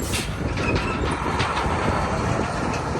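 Ontario Northland Railway test train with three passenger cars rolling past up close in snow, a steady loud rumble with rhythmic wheel clatter and no voices.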